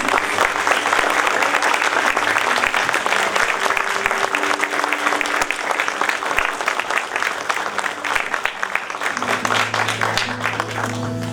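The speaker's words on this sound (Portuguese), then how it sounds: "Aplauda o Senhor" A church congregation applauds the Lord during a Portuguese-language worship service: loud, dense, sustained clapping over low sustained music tones, continuing without a break.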